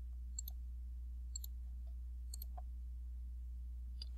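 Soft, sharp mouse clicks land about once a second while a model is assembled in software, faint and isolated over a low steady hum, ending with a louder click.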